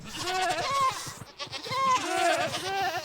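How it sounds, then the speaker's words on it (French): A Minecraft goat bleats twice in loud, wavering calls, close and clear with no talk over it. "Et là, tu prends une vraie chèvre."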